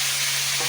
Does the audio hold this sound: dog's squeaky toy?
no